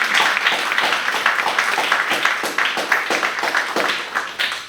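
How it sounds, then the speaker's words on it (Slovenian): An audience applauds after a film screening of Razodetje at a higher vocational school in Novo mesto. The clapping is a lively, continuous round from a crowd, with sharp hand-claps close by and the volume tapering slightly toward the end. "Ja, bomo še enkrat zaploskali,"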